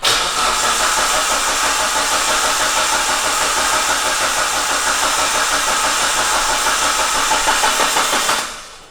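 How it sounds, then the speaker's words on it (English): A Mitsubishi Evo 6 Tommi Makinen Edition engine cranks on the starter with the injectors unplugged and no fuel, a loud, steady, rhythmic churning that never catches, stopping just before the end. "So we crank it without the injectors plugged in, so there's no fuel going in it"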